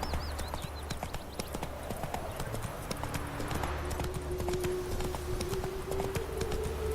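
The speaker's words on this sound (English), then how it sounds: "Whoa there, Roach." Horse hooves clip-clop steadily on the ground in The Witcher 3 video game, a continuous rhythmic patter under a low ambient drone, with a faint whinny early on.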